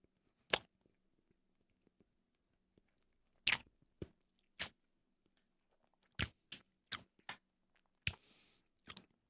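Someone bites and chews a sakura-flavored snack close up in a quiet room, with a dozen or so sharp, crisp crunches spaced irregularly and quick clusters of bites near the end.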